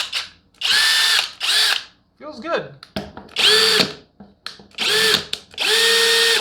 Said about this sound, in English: Okay, got her in drill mode.